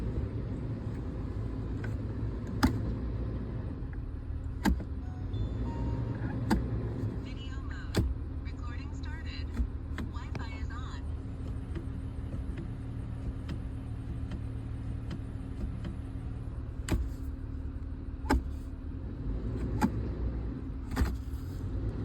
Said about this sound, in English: I'm gonna shift through all the gears.